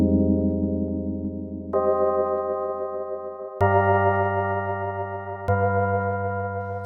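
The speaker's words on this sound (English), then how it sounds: "I'm gonna show you how the keys sound without effects." Dry vintage R&B-style electric keys played in FL Studio with no effects, sounding a sequence of sustained chords that change every couple of seconds, clear and close, with no talking.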